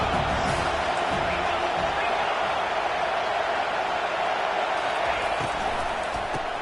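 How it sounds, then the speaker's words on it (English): Home crowd at a University of Georgia football game, a dense, steady roar of many distant voices filling the stadium, unbroken and even throughout. "this home crowd is fired up and ready to make a difference"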